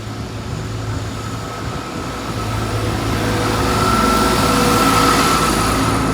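Light Class 47 diesel locomotive passing a level crossing on a high street, a steady low rumble and engine drone that swells gradually, with a faint high tonal whine above it.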